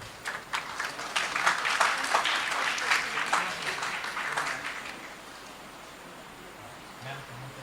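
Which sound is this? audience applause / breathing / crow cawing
audience applause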